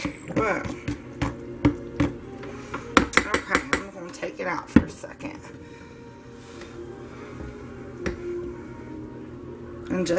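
Homemade liquid hand soap is stirred by hand in a pot, with repeated sharp clinks and scrapes of utensil against metal in an irregular burst early on, then quieter steady stirring, close and fairly loud.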